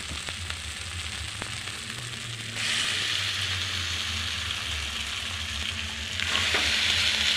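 Cabbage sautéed with dried and green chillies and ginger sizzles steadily in a pan, a loud continuous frying hiss that swells as the vegetables are stirred, with no talking.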